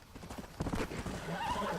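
Hooves clip-clop in a quick galloping rhythm, steady and fairly close, with a brief whinny near the end, from a horse in the video game Red Dead Redemption.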